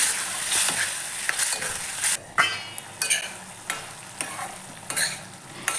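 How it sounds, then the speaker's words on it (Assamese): Spices sizzle in a hot pan over low to medium flame while a spoon stirs and scrapes repeatedly, the frying hiss rising and dipping with each stir. "এইখিনি এতিয়া মই অলপ সময় 5 মিনিটমান ল' টু মিডিয়াম ফ্লেমত ভাজি থাকিম"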